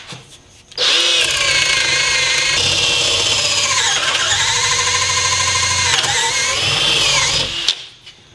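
Hilti SF 10W A18 cordless drill running in third gear while boring into wood, a loud, steady high-pitched motor whine with shifting load that spins up abruptly and runs for several seconds before stopping.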